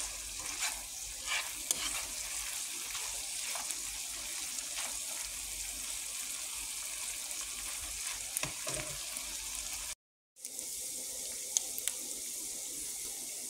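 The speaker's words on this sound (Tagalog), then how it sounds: "Gigisa ko lang siya." Bopis sizzles steadily in a frying pan while it is stirred, with soft scraping and clinks over the frying and one brief silent cut near the end.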